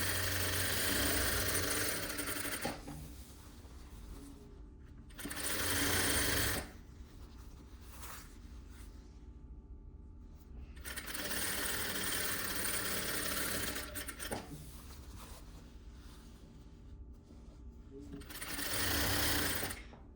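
A sewing machine stitches a fabric peplum seam in bursts of steady, close, loud whirring, pausing between runs, while someone talks quietly in the gaps.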